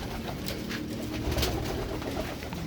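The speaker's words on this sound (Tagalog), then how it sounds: "Ibon." Pigeons coo softly in a breeder's loft, several low murmuring calls overlapping steadily against a faint background hiss, with no talking.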